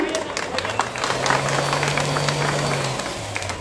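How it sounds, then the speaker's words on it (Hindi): Audience at a live stage event in Lucknow applauding, a dense steady wash of clapping and crowd noise lasting throughout, with a low humming tone running underneath. "एक बार जोरदार तालियां हो जाए।"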